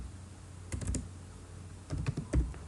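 Keys clack on a computer keyboard in two short bursts of quick, close taps separated by a quiet pause, with no talking.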